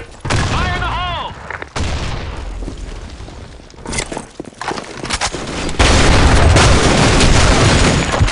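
A grenade blast in a multiplayer shooter, part of a loud, dense run of booms, gunfire bursts and rumbling, with a whistling sweep early and a sustained roar toward the end, close and heavy.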